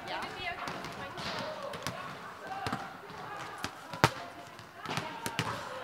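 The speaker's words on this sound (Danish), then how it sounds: "Så du starter med at kaste bolden op." Ball being thrown up and bounced, a series of sharp, irregular thuds and slaps, fairly close, with people talking throughout.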